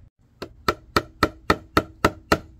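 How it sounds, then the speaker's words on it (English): Eight sharp, evenly spaced hammer blows ring out close up, knocking parts together while an Ashley furniture five-drawer chest is assembled, with no talking. "bring this one up leveled and hammer that in."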